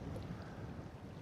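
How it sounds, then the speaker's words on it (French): Wind gusts across a lake where someone is feeder fishing for bream, a steady, fairly faint broadband rush and rumble with no voices. "Il y a quand même vraiment pas mal de vent."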